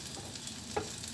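Garlic sizzles gently in not-too-hot cooking oil, a soft steady hiss with one faint clink of a utensil, close and quiet.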